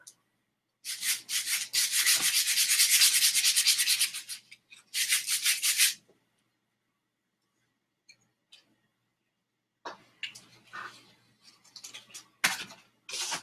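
Sandpaper rubbing back and forth over a hand-carved wooden wand, a long run of steady scratchy strokes followed by a shorter burst, then quieter intermittent scuffs and taps after a pause.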